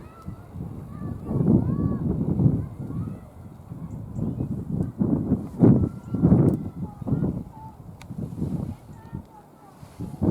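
A flock of wild Brent geese gives low, murmuring honks, mixed with someone talking nearby over steady outdoor background noise.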